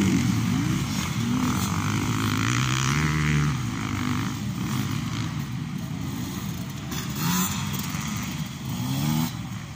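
An enduro motorcycle engine at a championship race rumbles steadily nearby, its low drone wavering in pitch as it revs slightly and settles, with no voices.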